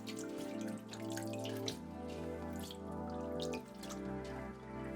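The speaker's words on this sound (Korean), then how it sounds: "물에 한 개씩 씻어서 붙어있는 껍질을 떼어주고 물에 3번 정도 헹궈서" Fresh oysters rinsed one by one in a bowl of water, with steady splashing, dripping and sloshing running through the whole stretch alongside a low background hum.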